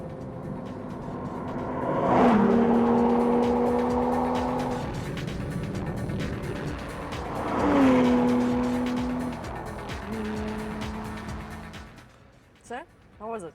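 A Porsche Cayman S 3.4-litre six-cylinder engine revs up and drops twice in long sweeping surges, close and loud, with a throaty steady drone between accelerations.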